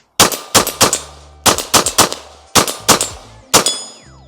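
A Walther PDP steel frame compact pistol fires close and loud in quick strings of about three shots each, eleven sharp reports in total with brief pauses between strings.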